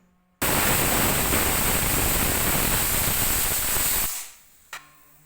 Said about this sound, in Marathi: तर एक कुकरची शिट्टी होऊन दिली